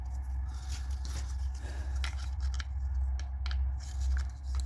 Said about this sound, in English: this saw works, as you can see